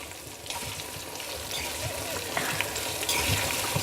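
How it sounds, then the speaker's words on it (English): Sliced onions sizzle and crackle in hot ghee in a pan while cooking dahl, a steady close frying hiss with occasional stirring scrapes and small pops. "I'm just going to cook the onion till it gets nice and golden"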